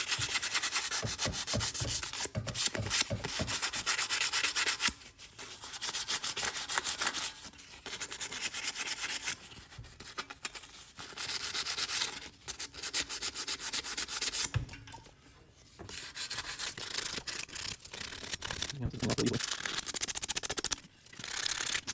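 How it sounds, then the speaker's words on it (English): Fine 220 grit sandpaper rubbed on a Schwinn hybrid bicycle part, a steady close scratchy sanding in long strokes with brief pauses between passes, alone without talk. "Let's try some 220 grit sandpaper on there."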